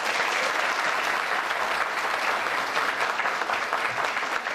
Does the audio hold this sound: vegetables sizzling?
no